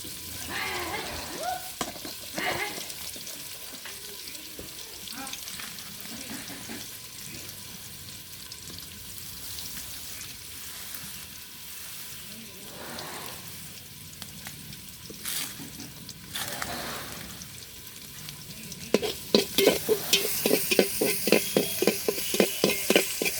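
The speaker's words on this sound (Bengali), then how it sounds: "দেখেন একদম কিন্তু ব্রাউন কালার করে ভেজে নিয়েছি হালকা হালকা" Food fries in a pan after being lightly browned with salt, a continuous soft sizzle close by, with occasional stirring scrapes and a burst of louder crackling and splashing near the end.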